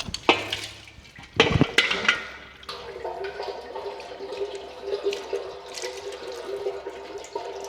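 Engine oil draining from a Ferrari 458 in a steady liquid stream and trickle, with a couple of sharp clanks from tools or the drain plug near the start.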